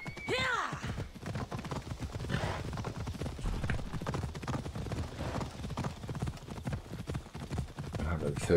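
Horse hooves clip-clop steadily in the video game Assassin's Creed Odyssey, a close, continuous trotting rhythm. A brief whinny comes at the start and someone talks over the hoofbeats.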